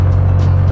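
A Dodge Viper coasting off the throttle at about 48 mph on an interstate, a loud steady low engine drone with road and tire roar filling the cabin.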